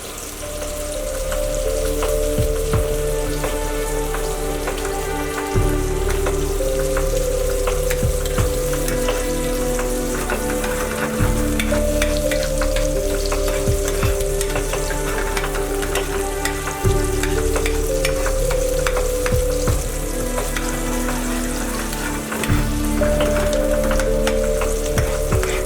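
Onions caramelise in a pan for beef dopiaza, a continuous loud sizzle and crackle of frying with occasional stirring scrapes, steady throughout and free of speech.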